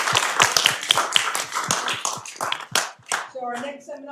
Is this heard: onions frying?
no